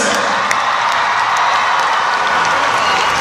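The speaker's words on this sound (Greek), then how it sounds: "Χειροκρότημα για τις μέλισσες." Audience applause and cheering at the Mad VMA 2016 music awards event, a dense, loud wash of clapping, crowd noise and whoops, steady and continuous throughout.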